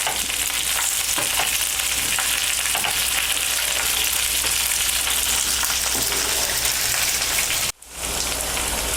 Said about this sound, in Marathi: तुम्ही असं म्हणू शकता की भेंडी मी शॅलो फ्राय करून घेते